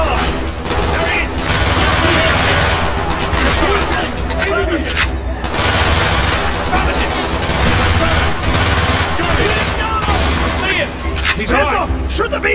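Dense, loud gunfire in the Call of Duty Black Ops video game as players shoot at support beams, with crackling shots and rumbling impacts running throughout under game music and shouted voices.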